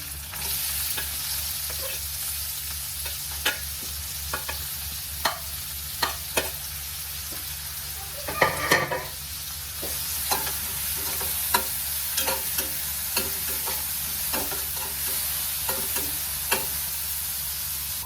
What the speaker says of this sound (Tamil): இப்போ நம்ம நைஸாக சாப் பண்ணி வச்சுருந்த ஆனியன் வந்து சேர்த்துக்கலாம்